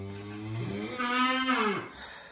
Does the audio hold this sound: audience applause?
no